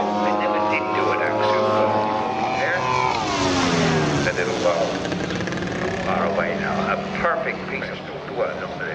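Radio-controlled model WW2 Corsair warbird coming in to land at a model aircraft show, a loud propeller engine drone whose pitch sweeps down as it passes and then fades, with someone talking over it.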